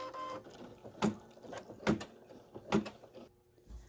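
An embroidery machine stitching an appliqué fascinator hat piece with red thread, a close mechanical whirring broken by three regular, sharp thumping clunks about a second apart, with no talking.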